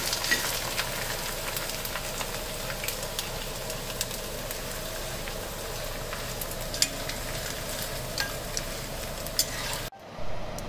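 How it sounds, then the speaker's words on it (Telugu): Cornflakes frying in hot oil, a steady close crackling sizzle with small pops and faint stirring scrapes, running continuously with no talk before a brief break near the end. "ఇప్పుడు కార్న్ఫ్లేక్స్ ఒక కప్పు తీసుకున్నాను, కార్న్ఫ్లేక్స్ వేయిస్తున్నాను."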